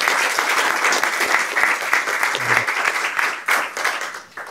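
An audience at a recruitment panel event gives the guests a big round of applause: dense, loud, continuous clapping that tapers off slightly at the end.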